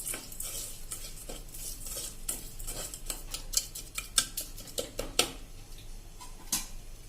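Milk cream and sugar stirred continuously in a pressure cooker while making ghee, with close scraping and clinking of a spoon against the metal pot, sharper taps standing out now and then.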